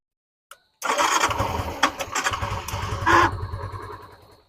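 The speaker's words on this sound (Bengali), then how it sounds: "গাড়ি স্টার্ট করবো একটু স্টার্ট করবে হ্যাঁ দেখাও স্টার্ট করে দেখাও" A motorcycle engine cranks briefly after a short click, then catches and settles into a steady, close idle with a revving surge near the end, at a used bike showroom.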